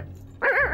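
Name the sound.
dog barking and whimpering in a cartoon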